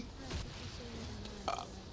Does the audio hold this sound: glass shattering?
no